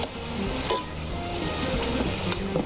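Whole spices for biryani crackle in hot oil: cloves, black peppercorns, cinnamon, star anise and cumin, a busy close sizzle with small pops and a faint background hum.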